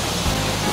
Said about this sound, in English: that's the second waterfall right behind me